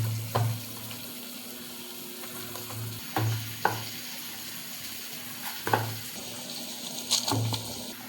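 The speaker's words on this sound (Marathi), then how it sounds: "मी तोपर्यंत मसाला करपू नये म्हणून हलवते डाव्या हाताने." Masala stirred in a pan on the stove with a ladle, a soft scraping and gentle sizzle, with several distinct clinks and scrapes at irregular intervals against a steady low hum, no talking.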